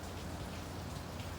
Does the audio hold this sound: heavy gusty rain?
yes